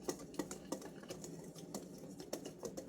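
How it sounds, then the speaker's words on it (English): Dry flour mix with arrowroot being whisked in a jar, a run of quick, quiet scraping taps in an uneven rhythm, close by and faint, with no voices. "So we're just going to whisk."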